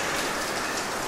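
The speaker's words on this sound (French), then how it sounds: "peut-être qu'on m'entend pas à cause de la pluie qui pleut très très fort" Heavy rain pouring outdoors, a dense, steady hiss of drops with no breaks or voices.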